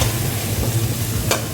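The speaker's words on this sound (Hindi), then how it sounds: "सारे मसाले को लो फ्लेम में भूनेंगे।" Spices frying on a low flame for a dhaba-style black chickpea curry, a steady close sizzle with faint stirring scrapes and one brief clink.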